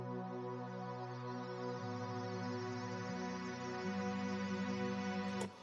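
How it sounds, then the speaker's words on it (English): Glitter Pad synth pad from the Hype plugin sustaining alone, a dense shimmering chord with a steady low note that steps to new pitches every second or two, even and smooth, cutting off abruptly near the end. "The pad is called Glitter Pad"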